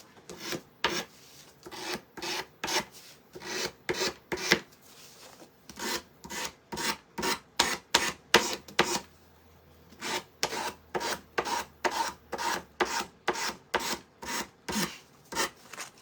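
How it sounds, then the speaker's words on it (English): Sanding paint off a wooden craft piece by hand, steady rhythmic back-and-forth rasping strokes, close and fairly loud, with a short pause midway and no talking. "I'm just gonna sand away a little bit of the paint."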